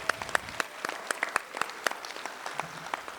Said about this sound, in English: Let's give a round of applause for our inductees tonight.